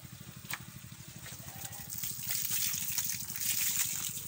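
Water from two electric pump hoses gushes steadily onto straw mushroom growing beds indoors, a continuous broadband spray with a low pump hum underneath, alone and fairly close.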